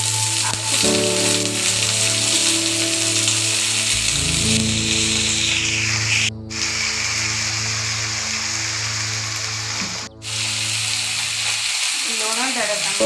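Shredded cabbage frying in a pan gives a steady, close, continuous sizzle from start to finish, with sustained tonal background music running beneath it.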